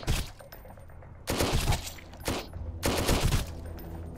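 Bursts of pistol fire in the survival game Sunkenland, three loud clusters of rapid shots separated by brief quieter gaps, with no talk over them.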